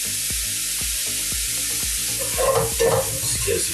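Celery, bell pepper and jalapeno seasoned with Creole seasoning and salt are stirred in a hot pan for red beans and rice, giving a steady close sizzle with regular knocks of the spoon and a few louder scrapes near the end.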